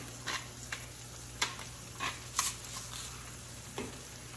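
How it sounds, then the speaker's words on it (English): Onions seasoned with salt and cracked black pepper frying in a pan, with a steady low sizzle and several soft scraping stirs spaced through the few seconds, fairly quiet and with no voices. "we're going to cook that for approximately together around 5 minutes or so until the onions kind of get translucent"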